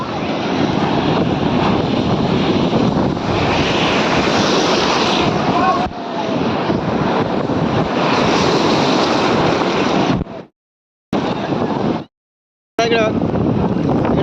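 Big sea waves crash and wash continuously on Nagaon beach, a loud broad roar with heavy wind buffeting the microphone, broken by two short gaps of silence near the end.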